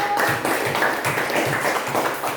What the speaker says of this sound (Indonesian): Tepuk tangan untuk Firdaus